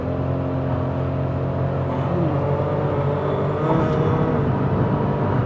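Chevrolet Spark with a CVT accelerating hard, heard from inside as a steady, loud engine drone and whir that holds a constant pitch rather than shifting, with road noise and no talking.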